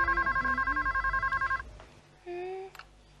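A mobile phone rings in a rapid pulsing burst for about a second and a half, then a short steady electronic tone follows, loud and close in a Hindi family comedy scene.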